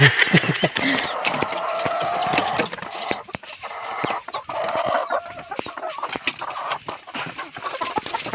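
Laying hens cluck repeatedly nearby in their coop, with scattered short calls and some bustling noise in the background.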